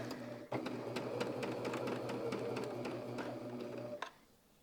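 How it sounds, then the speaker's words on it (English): A sewing machine stitches quilt block pieces together in a steady, fast whirring hum with a regular needle tick. It runs close and continuous for about four seconds before stopping with a click. "now I'm just going to sew these pieces together"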